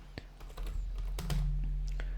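Code being typed on a computer keyboard during a Python tutorial, a quick irregular run of close key clicks and taps against a faint steady hum.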